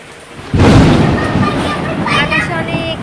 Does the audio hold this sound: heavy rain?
yes